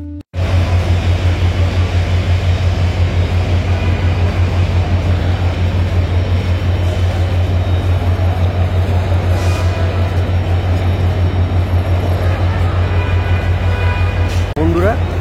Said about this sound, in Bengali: এই ব্রিজের উপর দিয়ে ট্রেন চলাচল খুবই ধীরে করে